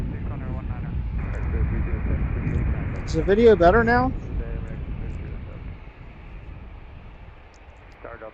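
Airplanes at Washington National Airport (DCA) produce a broad, steady jet roar that swells and slowly fades under a person talking in the foreground.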